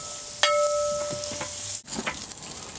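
Onion slices and oiled chilies hiss on a grill in a steady sizzle, with a few light clinks and scraping touches of a utensil close by.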